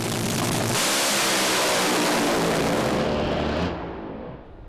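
A top fuel dragster blasts down the strip at Willowbank Raceway with an extremely loud, crackling, ragged engine roar that holds for about three seconds and then falls away abruptly.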